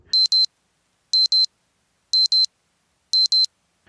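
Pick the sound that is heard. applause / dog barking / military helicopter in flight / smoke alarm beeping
smoke alarm beeping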